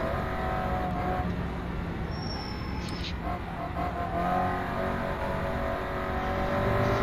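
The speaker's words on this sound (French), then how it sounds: "Oh, le bruit des freins aussi, fort. Et les pneus, le bruit des pneus aussi" Race car brakes and tyres in the rFactor 2 racing simulator, a BTCC touring car, with a steady engine drone and brief high tyre squeals over it, loud and continuous.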